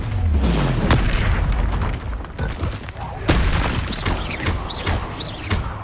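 Confringo fire-blast spell cast in the Hogwarts Legacy video game, a series of loud booming bursts and sharp cracks amid ongoing combat effects, with shrill whooshing streaks near the end.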